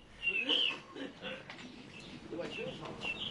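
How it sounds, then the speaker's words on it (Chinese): Caged birds kept by older men at an old Shanghai tea house give a few faint, high chirps and calls against a murmur of nearby voices and talk. "老余就惊讶的听到了熟悉的鸟叫声。"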